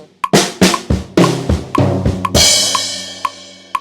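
A drum fill from a cover of a song, opening with a sharp snare hit followed by a rapid run of tom and snare strikes, ending in a crashing cymbal wash with steady hi-hat ticks, loud and close.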